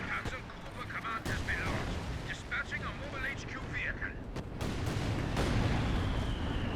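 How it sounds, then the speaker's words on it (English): Distant artillery shelling from a B4 howitzer in Company of Heroes 2 rumbles as a dense, continuous barrage of booms and crackling impacts, with a voice talking over it throughout. "we have artillery coming down in the back"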